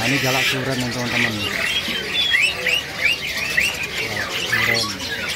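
An Asian pied starling (jalak suren) gives a string of whistled chirps and squawks among other caged birds at a busy bird market, with someone speaking over it at times.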